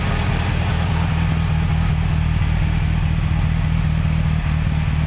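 An MGA project car's engine idles at the rear exhaust, a steady low rumble with a fast, even pulse running through the whole stretch, close and loud, with no talking.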